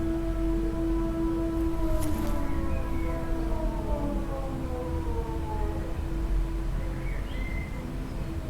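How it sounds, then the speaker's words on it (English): Air raid sirens wail in a steady, sustained drone with slowly shifting pitch, moderately loud and continuous, heard at a distance with faint background sounds. "Third round of air raid sirens and there's still music downstairs."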